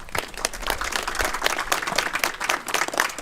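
Audience at a Korean memorial ceremony for a fallen activist claps briskly in a dense, even burst of applause that holds steady throughout, with a faint voice under it.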